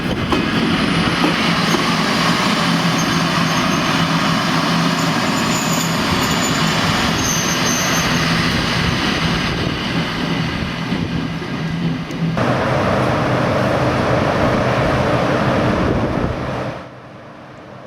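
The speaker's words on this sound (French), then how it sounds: "La locomotive 3000 volts continu qui nous emmène à Rijeka vient la récupérer, la manœuvrer et la lancer sur la voie" A 3000 V DC electric locomotive manoeuvres a train bound for Rijeka, producing a loud, steady rumble of traction motors and rolling stock. The rumble drops suddenly near the end, leaving a quieter hum.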